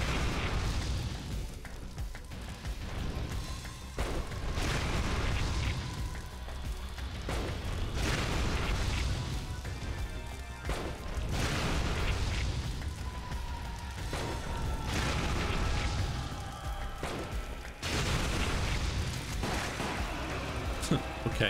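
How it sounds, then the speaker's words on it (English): Grenade launcher blasts in the video game Resident Evil: The Umbrella Chronicles, a string of loud booming explosions recurring every few seconds over continuous game noise and music. "Grenade launcher."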